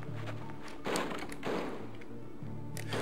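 Wooden crates get shot open in The Walking Dead: Zombie Hunter video game, with three or four dull, close thuds spaced about half a second apart over a low background hum.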